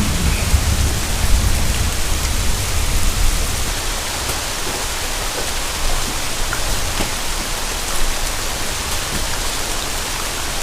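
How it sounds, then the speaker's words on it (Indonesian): Steady heavy rain falls on a mountain hiking trail on Gunung Gede, a dense, continuous wash of drops close around, with no voices over it. "Hujan."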